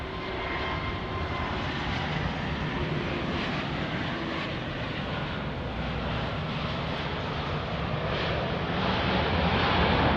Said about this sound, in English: let's turn our attention to 3-1 right for another Southwest Airlines arrival on a MAX attack